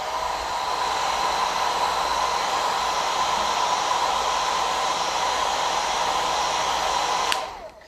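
A hair dryer blows steadily on watercolor paint for several seconds, a loud continuous whoosh close by that cuts off abruptly near the end.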